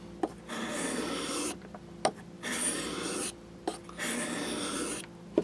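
A Mora knife blade is drawn in long rasping strokes across a wet combination waterstone, several steady passes separated by brief pauses and small clicks, close and fairly loud.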